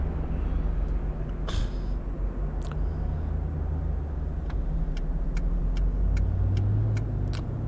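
A Chevrolet Tahoe of unknown year driven in the City Car Driving game, its steady low engine drone running throughout, with a brief ticking click and a few faint high clicks.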